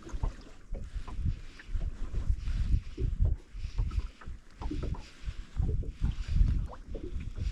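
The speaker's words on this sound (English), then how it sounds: "It's nice to see a boat come out a small bit, then pull up to go back in" A small boat drifts on Lough Conn during fly fishing, rocking on the water with wind rumbling across the microphone and light slapping and knocking sounds, no voices.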